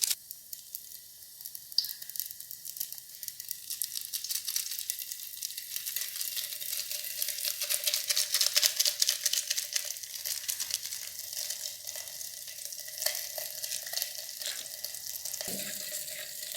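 Spices frying in hot oil inside an electric kettle, a steady bright sizzle that rises and falls in intensity, close and continuous with no talking.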